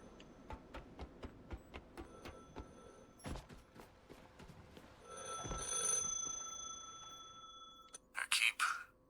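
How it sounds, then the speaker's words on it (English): A telephone rings in a late-game stretch of The Last Caretaker, with a fast series of short bell bursts, then a steadier tone, then a loud final cluster of rings over a hum of machinery. "The phone is ringing."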